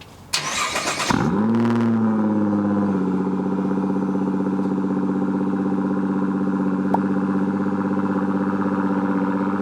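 A Nissan GT-R R35 engine cold-starts, cranking and catching, revving briefly before settling into a steady, loud idle that drones on alone.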